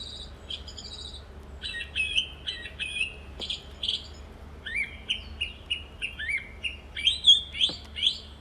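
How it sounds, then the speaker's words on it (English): A songbird, either a thrush or a nightingale, sings outdoors in a series of clear, bright whistled phrases and chirps, growing louder and more rapid toward the end. "It's either a thrush or a nightingale."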